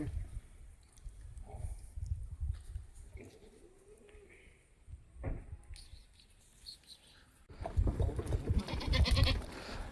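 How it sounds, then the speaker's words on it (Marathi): Goats bleat several times, hungry before being taken to graze near Kalsubai peak in Maharashtra, some near and some farther off, with rustling and a louder burst of outdoor noise toward the end. "त्या शेळ्या ओरड सुटल्यात, भूक लागली त्यांना"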